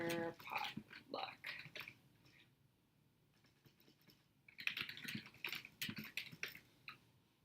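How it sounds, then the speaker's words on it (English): Soft, quick key clatter comes from typing a name on a computer keyboard, in irregular bursts with a brief lull in the middle, faint and close. "So you just start typing their name in"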